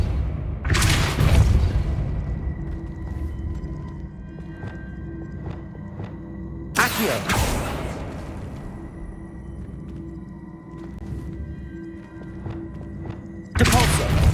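Depulso spells cast in Hogwarts Legacy, three loud whooshing bursts with deep booming impacts spaced several seconds apart over a low steady ambient rumble.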